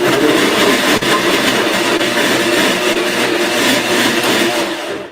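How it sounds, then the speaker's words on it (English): A kitchen blender whirs steadily and loudly for several seconds while blending a nectar drink, a dense, constant motor roar that cuts off abruptly at the end. "So I'm just going to put on the blender"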